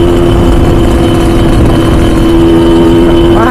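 A Kawasaki KLX150 motorcycle engine held at half throttle gives a loud, continuous droning roar close by, and its pitch climbs near the end.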